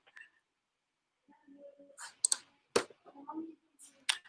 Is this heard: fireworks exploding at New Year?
no